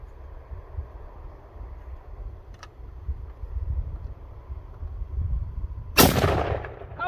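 A single sharp, loud gunshot from a bullpup Mosin rifle fitted with a muzzle brake, fired outdoors over steady low wind rumble near the end.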